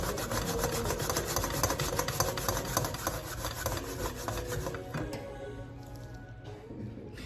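Malanga root is grated by hand on a grater with a continuous close rasping scrape that eases off near the end, with no talking.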